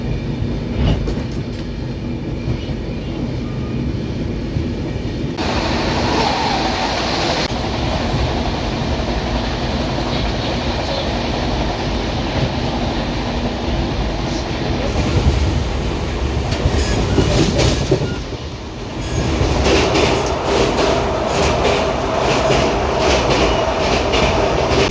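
Train at Akola Junction in Maharashtra: a steady, loud rumble of rail cars with faint clattering wheels and metallic hiss running throughout, no voices.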